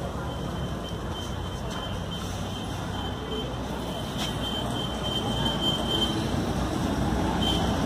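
A continuous low rumble of traffic comes from a nearby main road, a steady wash of passing vehicles that swells slightly toward the end.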